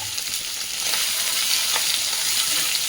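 Boiled, peeled soybean and potatoes fry in a pan with a loud, steady close-up sizzle that swells slightly after the first second and holds evenly, no voices.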